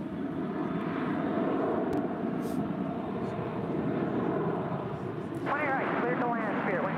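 An airliner taxiing toward the viewer at DFW airport, a steady engine rumble and whine over open air, swelling slightly near the end, with people talking over it.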